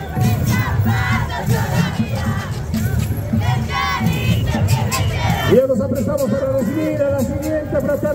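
A loud crowd cheers and shouts energetically at a Saya Negritos dance troupe's parade entry in El Alto, Bolivia, then the cheering gives way to a chant-like rising voice with clapping and noise continuing.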